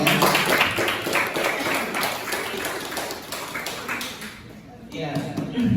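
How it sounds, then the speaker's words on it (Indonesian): An audience claps for the two teams at a school debate competition between a high school and a pesantren, a dense patter of applause that swells early and fades out while people talk over it. "kita kasih tepuk tangan dulu untuk kedua tim ini ya"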